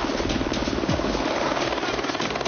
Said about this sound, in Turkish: Helikopter biraz evvel aldı.